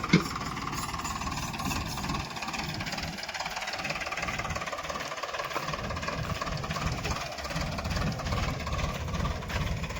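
A tractor engine runs in a farm field while hauling organic manure, a steady, close mid-pitched rumble with a rhythmic knocking chug that continues throughout, without speech.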